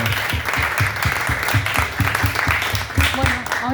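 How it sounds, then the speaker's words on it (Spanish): An audience applauds at a book presentation, steady rhythmic clapping in unison, fairly loud and close, with voices mixed in beneath the claps throughout. "le quiero pedir un aplauso grande"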